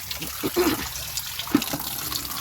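Water runs from a tubewell tap, a close splashing trickle with soft irregular spatters.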